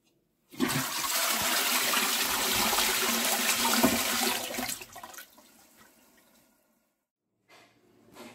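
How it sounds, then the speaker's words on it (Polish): Toilet flushing in a small restroom at a bistro near Copenhagen, a loud, close rush of water for about four seconds that then fades into a quieter refill trickle and near silence. "Zaraz zrobimy próbę spuszczania wody."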